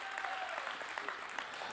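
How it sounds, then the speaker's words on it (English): A church congregation clapping loudly together, a dense, steady burst of applause filling the room with no pause. "You gonna patty clap? Might as well do it loud."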